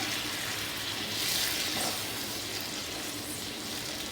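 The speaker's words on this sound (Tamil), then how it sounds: "ஸோ நல்லா வதக்கிக்கோங்க தக்காளியை" Tomatoes sautéing in oil in a pan for tomato pickle, a soft continuous frying hiss with gentle crackle, fairly quiet and steady throughout, no voices.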